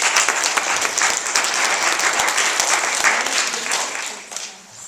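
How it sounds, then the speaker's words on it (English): Audience clapping for a school reading workshop team, a steady dense round of applause filling the room before tapering off near the end. "So can we give them a clap?"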